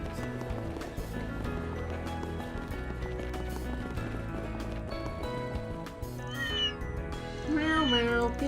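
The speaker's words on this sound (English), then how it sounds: "Meow meow kitties." A cat meows in the video game Trails beyond the Horizon, a few rising, chirpy calls near the end over steady background music and game sounds.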